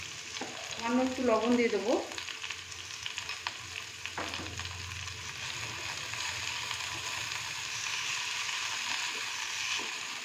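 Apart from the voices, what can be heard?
bread upma frying in a pan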